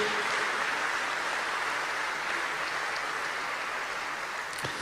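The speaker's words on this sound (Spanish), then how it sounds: "dale un aplauso al Señor" A church congregation claps for the Lord in a steady, dense wash of applause that fills the room and holds evenly throughout.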